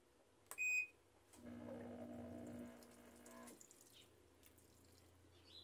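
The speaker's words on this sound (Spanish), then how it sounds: "Y ahí ya empezó a tirar un poquito de agua." A short beep, then water rushing steadily into a Whirlpool Cabrio washing machine with an F51 fault for a couple of seconds before quieting to a low hum.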